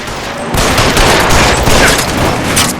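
Dense, sustained gunfire from a shootout in LA Noire fills the whole stretch, loud overlapping shots rolling together after a brief quieter opening, with no voices over it.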